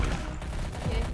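Rapid gunfire in the video game Garry's Mod crackles in a short, dense burst of overlapping shots, close and harsh against a noisy background.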